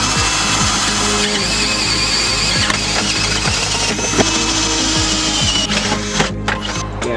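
A power drill bores holes near the differential of a BMW E36 during a drift-build repair, whining and grinding in close, uneven bursts with shifting pitch and short pauses between them.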